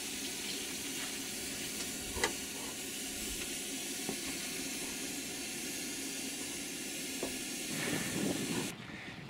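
Eggs and bacon fry for breakfast with a continuous close hiss and sizzle, small pops breaking through and a brief louder flare near the end.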